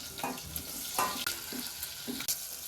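Chopped onion and garlic sizzling in a hot pan for paneer pulao, a close, steady frying hiss broken by several sharp stirring scrapes and clinks, with no voices.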